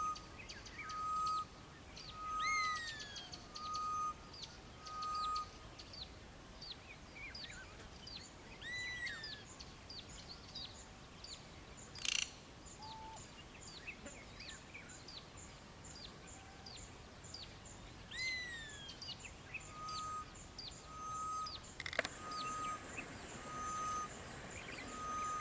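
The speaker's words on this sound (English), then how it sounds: "Now that sound is for a grey-headed bushrike." Grey-headed bushrike calls among a morning bird chorus, with repeated whistled notes and chirps from several birds over a steady faint background, plus intermittent beeping tones.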